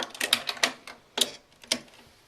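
Short separate bursts from a sewing machine stitching across a quilt sash join with back stitches at each end, close and fairly loud, four or five quick clattering runs with brief pauses, no talking.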